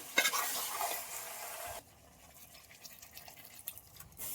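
A pot of fish curry with onion-coconut masala is stirred over a village wood-fired stove, giving a brief burst of wet scraping and sloshing before it settles into a quieter simmering bubble.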